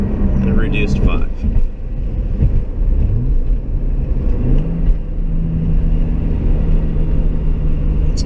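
A 700whp twin-turbo Toyota Supra driving in the rain, its engine a loud, steady rumble with rising revs and shifting pitch as it accelerates, continuous and close throughout.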